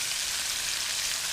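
Bacon frying in a pan until crisp, with a dense, steady sizzle and crackle that runs continuously and evenly throughout, without any talk.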